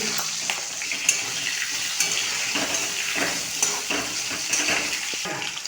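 Bay leaf, nigella seeds, green chili and potato frying in oil in a pan, a continuous sizzle broken by repeated scrapes and clatter from stirring.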